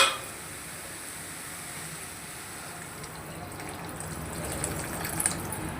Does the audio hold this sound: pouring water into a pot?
yes